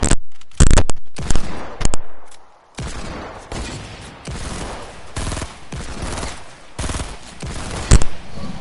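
Video game gunfire in loud bursts of rapid automatic shots, broken by short pauses and followed by a denser rattle of fire with scattered single cracks, close and dominant.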